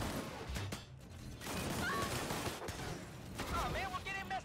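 Gunfire from a weapon in the shooter video game Disintegration crackles in rapid bursts amid dense game sound effects and mechanical whirs, fairly quiet overall.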